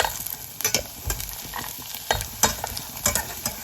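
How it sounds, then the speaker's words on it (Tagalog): Garlic frying in oil and being stirred in a pan, a steady close sizzle broken by sharp scraping clacks of a utensil every half second or so, with no voices. "Yan ang ating fried bawang."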